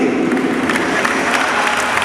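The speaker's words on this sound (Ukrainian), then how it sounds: "Давайте привітаємо ще раз оплесками гравці" Crowd applauding the players at an open training session and new kit presentation of the Uragan futsal club, a short burst of steady clapping with some voices mixed in.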